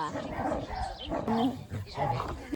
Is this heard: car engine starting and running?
no